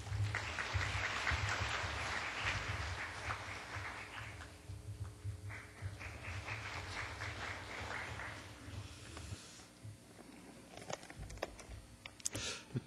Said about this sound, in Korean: 박수로 맞이하여 주시기 바랍니다.